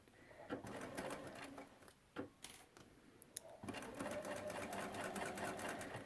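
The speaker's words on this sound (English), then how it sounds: "With my placemat still folded, I'm going to stitch right down the crease." A sewing machine stitches along the folded crease of a fabric placemat, running in steady bursts with a short pause partway and a few sharp clicks before it resumes and continues evenly.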